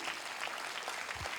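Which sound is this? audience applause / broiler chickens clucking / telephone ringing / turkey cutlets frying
audience applause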